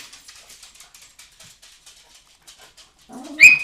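A pet dog named Bruno whimpers in a run of short, soft, high-pitched whines, then lets out one sharper, louder yelp close by at the end.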